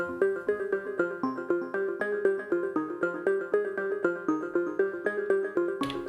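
Two pluck synth patches on an Elektron Digitone are layered, playing the same techno melody in unison as a steady, fuller run of short, rhythmic plucked notes, ending on a brief noisy burst.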